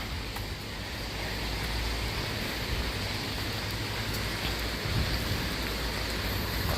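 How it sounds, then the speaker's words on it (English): Steady rain falling on a beach road, a continuous dense hiss close by with no talking. "it's raining pretty steady now"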